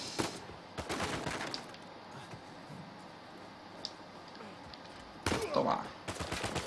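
Gunfire in Uncharted 4 during a tomb level, quiet bursts of shots scattered across the stretch with sparse rapid volleys near the start and end, under faint background sound and some talk.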